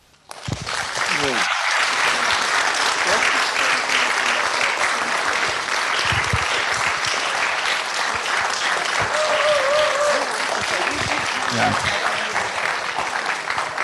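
Closing a conference on alter-globalisation and planetary politics, the audience bursts into sustained applause that stays loud and even for over twelve seconds, with a few voices faintly mixed in.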